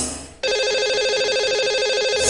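A phone ringback tone on an outgoing call to a radio show caller starts after a brief quiet moment and sounds continuously, a steady electronic ring heard over the line.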